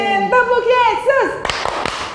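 In the rhythmic clapping game "Tepuk Yesus" at a children's church service, a voice sings or chants first, then a few sharp, loud claps follow in a quick pattern.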